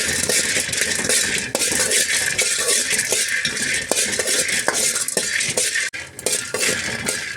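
Roasted gram and peanuts frying in a pan on a stove, with a continuous dry crackle and frequent metallic clinks and rattles of a utensil against the pan, close and steady with no speech.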